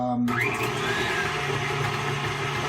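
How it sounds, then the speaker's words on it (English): An electric whisk or blender whirs steadily in unsweetened original almond milk, a close, loud motorised drone that holds from start to finish. "we're going to whisk that up till it's like cream"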